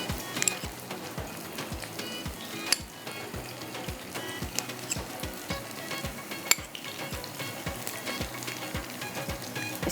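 A buttered burger bun toasts in a hot pan, a steady low sizzle beneath a rapid, regular train of soft ticking knocks and a few sharper clicks.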